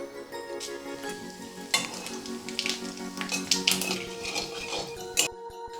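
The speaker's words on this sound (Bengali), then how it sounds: "পনির ভাজার তেলের মধ্যেই আমি ফোড়নটা দিয়ে দিতেছি" Whole spices, dried red chillies and a bay leaf tempering in hot oil left from frying paneer, a bright sizzle with spatula stirring and metal clinks against the pan, loudest mid-way, ending in a brief near-silence.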